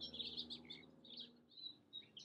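Birds chirping outdoors in short, high, scattered calls, faint and somewhat distant, with no talking over them.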